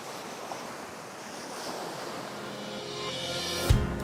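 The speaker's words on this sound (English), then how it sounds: "The sounds of the ocean. The sounds of the waves overpowering everything." Ocean waves wash in steadily at Samcheok, Korea, with wind rumbling across the microphone, building to a louder crash near the end.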